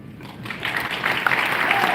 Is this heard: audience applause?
yes